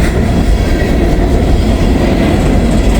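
A freight train rolls past at night on a CSX or Norfolk Southern line, a loud, steady, close rumble of railcars with a faint rhythmic clatter of wheels throughout.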